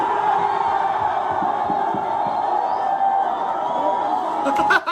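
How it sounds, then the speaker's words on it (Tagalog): A large, loud crowd cheers and roars for Sak Maestro at a live rap battle, a steady wall of voices with shouting mixed in, swelling to a brief peak near the end. "magingay para kay Sak Maestro"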